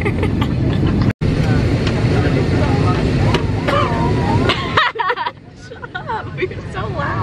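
Steady broadband cabin rumble inside an airplane still on the ground, loud and continuous for most of the time, with a brief dropout early on, people chatting over it, and a quieter stretch near the end.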